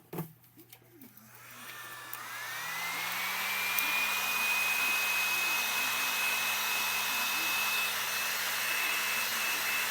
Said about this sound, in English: you can use a hair dryer. I have a heat gun.